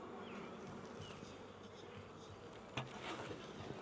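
Honey bees humming steadily around a newly installed beehive, a continuous close buzz with a brief louder knock near the end and no talking.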